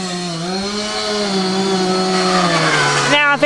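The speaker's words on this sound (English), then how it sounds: "You can hear that he's got it at a high RPM." A chainsaw at a fire school screams at high revs, a loud, sustained buzzing whine that holds steady nearby before briefly sputtering at the end.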